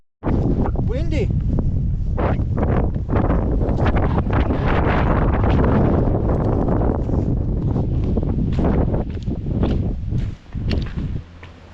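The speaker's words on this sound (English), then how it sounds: "Windy!" Heavy wind buffets the microphone in a loud, continuous roar with footsteps near a slate quarry, and a person speaks briefly over it.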